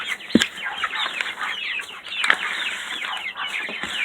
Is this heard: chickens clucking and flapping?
yes